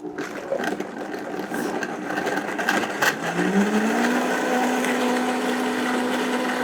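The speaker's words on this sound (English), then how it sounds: "If you have something that's not a high-speed blender, you can use something, a regular blender, and it'll still blend everything up together." A high-speed blender purees barbecue sauce with dates, its motor whirring steadily and then rising into a loud, sustained high whine that continues to the end, with no talking.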